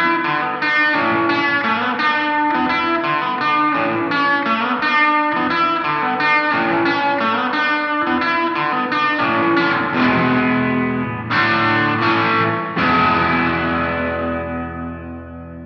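An electric guitar riff played through reverb and distortion: a run of ringing, rhythmic chords and notes, loud and close, with the last chords left to decay into a long reverberant tail.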